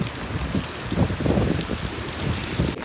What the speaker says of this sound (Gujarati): કેટલો ભારે વરસાદ આવે છે